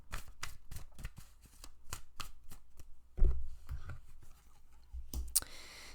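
Tarot cards are handled and shuffled close by, with a steady run of crisp riffling clicks followed by a few softer slides and taps, quiet and without speech.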